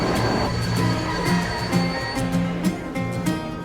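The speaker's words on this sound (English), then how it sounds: "this is the afternoon train to Brasov" The afternoon train to Brasov in Romania, a steady rumble of a moving passenger train with rhythmic wheel clacks over rail joints, heard from close by.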